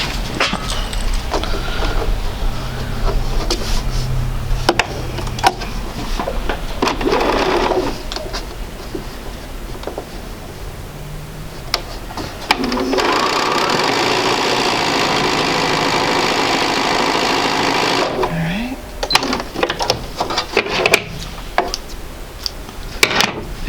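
A sewing machine stitches quilt block strips in several bursts of rapid mechanical whirring and clatter, separated by pauses with handling noises and clicks, the longest run holding steady for about five seconds near the middle.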